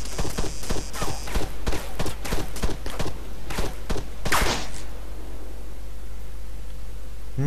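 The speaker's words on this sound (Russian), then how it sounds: "Боже, а из чего это стреляют?" In the video game Arma 3, a rapid string of gunshots crackles at a fast, uneven pace over a steady low rumble, then one sharper louder crack stands out before the firing stops and only the background drone continues.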